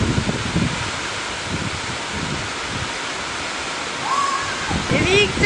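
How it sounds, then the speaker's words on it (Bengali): Heavy rain pours down in gusty wind that sways tall areca palms, giving a loud, constant roar, and a few faint whistle-like tones rise over the noise near the end. "ঝমঝমিয়ে বৃষ্টি হচ্ছে, সাথে দিচ্ছে ঝড়ো হাওয়া।"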